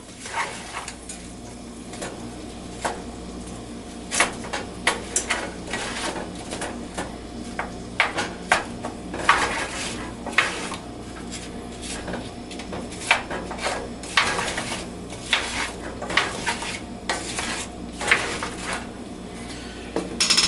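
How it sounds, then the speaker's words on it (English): Stewed apples cook in a pot on a kitchen stove, with scattered clinks and scrapes of stirring and pot contact rising over a low background hum, irregular and close. "we'll stir that, we'll cook that, stirring occasionally for 6 minutes until the apples are somewhat tender"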